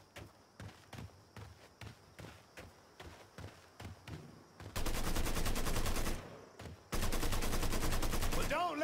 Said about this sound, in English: him shoot at us